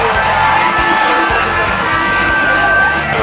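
A huge stadium crowd roars and cheers steadily at the 2003 South Pacific Games opening ceremony in Fiji, a dense, loud wash of voices with whistles and shouts running throughout.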